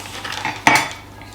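A utensil clinks against a bowl or pan while a beaten egg and onion mixture seasoned with salt and pepper is stirred, one sharp scrape-and-clink in the middle of a quiet stretch.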